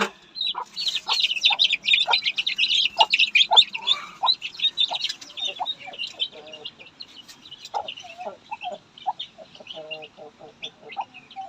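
A flock of young Bhimavaram breed chicks chirps continuously, rapid high peeping calls overlapping close by, with a few lower clucks mixed in near the end.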